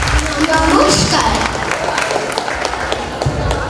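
Audience applause after a recitation at a cultural stage event in Taki, a dense, steady wash of clapping and crowd noise lasting throughout with some voices mixed in.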